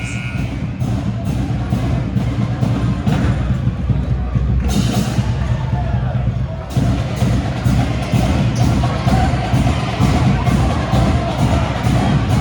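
Crowd murmur fills a high school gym at a varsity basketball game between Western Reserve and Vermilion, a steady hum of chatter with scattered thumps and shouts, close and continuous throughout.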